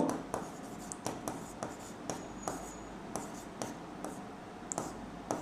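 Pen or pencil scratching across paper as a math answer is written out by hand, with a quick irregular rhythm of short strokes and taps, close and fairly quiet, with no talking.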